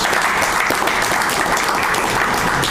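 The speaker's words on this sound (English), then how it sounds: "Let's give him a round of applause." Audience applause at a City of Little Rock downtown press conference, steady dense clapping that fills the whole short stretch at even loudness, with no talk over it.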